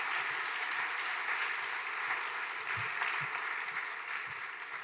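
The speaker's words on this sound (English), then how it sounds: "Let's give her one more round of applause." Crowd applause at a school academic awards ceremony honoring a student athlete, a broad, even wash of clapping sustained throughout with no speech.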